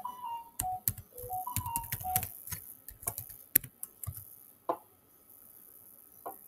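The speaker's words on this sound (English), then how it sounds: "I'll just write my password." Password being typed on a computer keyboard while signing in, with irregular bursts of close, crisp key clicks and a few louder taps, pausing near the end.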